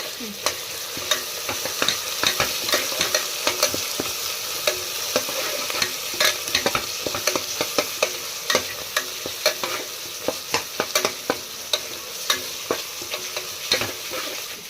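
Garlic paste sizzles steadily in a hot pan while a spoon stirs it, with frequent close scrapes and clinks against the pan. No one speaks.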